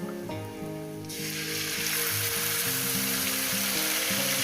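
Spice paste hits a pan of fish curry with boiled potatoes, bursting into a loud, dense sizzle that swells after a quiet start and holds steady, close up, over a faint tonal hum.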